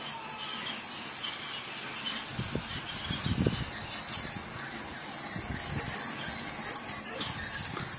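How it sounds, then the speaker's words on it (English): A pet dog in a home barks at a dog next door, a few short, muffled barks in the middle of the clip, mixed with indistinct voices and household noise. "Looks like Miss Daisy saw a dog next door."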